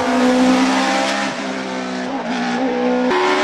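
Mercedes 190 hillclimb race car engine roaring loud and close, revs climbing and dropping through several gear changes with sharp pitch steps, a harsh raspy exhaust note alone without talk.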